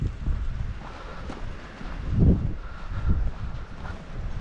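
Strong storm wind gusts during heavy rain at a campsite with yurts, buffeting the microphone in a loud, uneven roar that swells near the middle.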